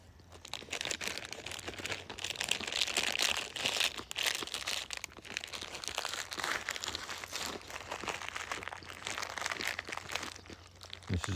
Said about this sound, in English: This is the sound of cashew nuts being crunched.